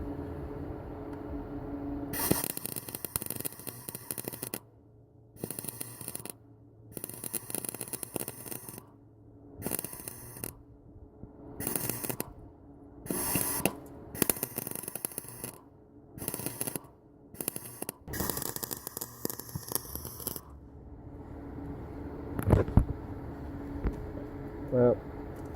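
Welder laying short bursts on the A-pillar metal of a 2003 Cadillac CTS, crackling hiss in repeated pulses a second or two long, separated by brief silences.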